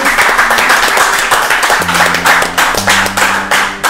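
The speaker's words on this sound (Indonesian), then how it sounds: "Tepuk tangan dulu dong." Loud applause from an audience at a military command visit to a regional army headquarters, with distinct rhythmic clapping that settles into a steady beat while a low hum and voices run underneath.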